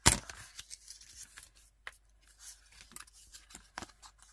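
Paper being cut with scissors for a portable scrapbook desk craft: a sharp snip up front, then a run of small, irregular close snips and rustles with quiet gaps between them.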